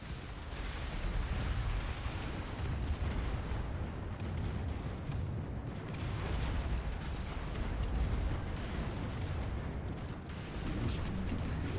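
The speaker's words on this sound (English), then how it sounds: "what I want to do here is immediately hit this ion cannon" In the AI War 2 space strategy game, an ion cannon fires in a dense, continuous rumbling barrage of booming blasts, loud and unbroken for the whole stretch with no voice over it.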